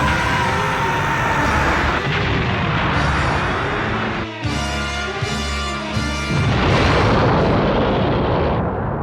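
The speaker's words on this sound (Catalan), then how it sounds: "Namekusei va a explotar." Anime sound effect of the planet Namek exploding: a continuous roaring, rumbling blast with a sharp burst near the middle followed by repeated pulsing booms, then a sustained swelling roar fading at the end.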